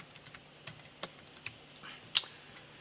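Light, sparse clicks of keys on a computer keyboard, including presses of the M key, come as a handful of soft separate taps with one sharper press near the end, close and faint.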